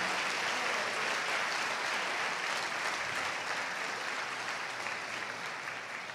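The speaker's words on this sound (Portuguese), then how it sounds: "Para Jesus e para vocês, dê uma forte salva de palmas." A congregation at a church talk on transforming habits gives a strong round of applause, dense continuous clapping from a large crowd that stays loud and even, tapering slightly near the end.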